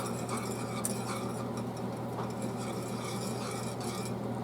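A whisk stirs dry instant Alfredo sauce mix into liquid in a pot, producing quiet, rapid ticking scrapes against the metal over a low, steady background hum.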